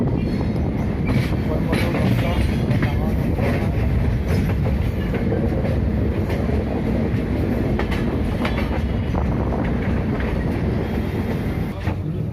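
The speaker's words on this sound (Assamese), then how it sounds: "এতিয়া আমি ট্ৰেইনৰ ভিতৰত সোমাইছোঁ" Loud, continuous rumble of a moving train to Ernakulam, heard from inside the carriage, with rhythmic clatter and rattling throughout.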